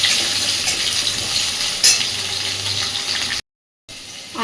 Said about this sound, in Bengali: সুন্দর করে এবার আলুগুলোকে ভেজে নেব।